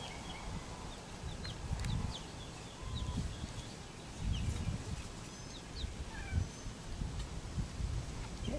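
Soft clucking and chirping from hens and baby chicks nearby, with occasional high peeps over a low rustling background.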